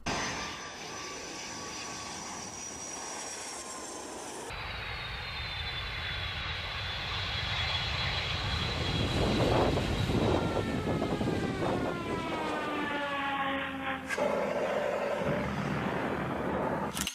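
An airplane engine drones loudly and steadily, swelling into a rising, sweeping whine as the aircraft passes, with no talking over it.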